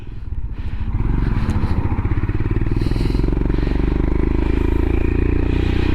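A Royal Enfield Himalayan motorcycle fitted with a 36T rear sprocket pulls up through the gears on a test ride, its loud single-cylinder thump steady and close from the rider's position after a brief lull at the start.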